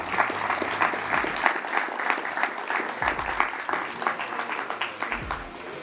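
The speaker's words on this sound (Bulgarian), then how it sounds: "Аплодисменти за нея." Audience applause rings out at the Bulgarian Best Young Athlete 2024 award ceremony for a badminton champion, a dense, sustained clapping from a large hall crowd with low rumbles underneath.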